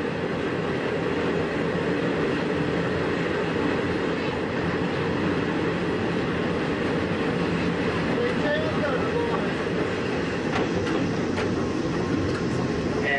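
A Shin-Keisei 200-series electric train rumbles and clatters continuously from inside a car, with faint squeals of wheels as it rolls slowly into the Kunugiyama depot in 1990.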